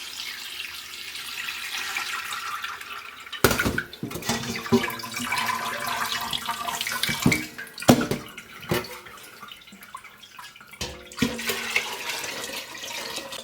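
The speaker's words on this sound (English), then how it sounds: "I'm just going to run it through this strainer here." Homemade stock poured from a pot through a kitchen strainer, a splashing, trickling flow with uneven surges and drips, close and fairly loud, no talk.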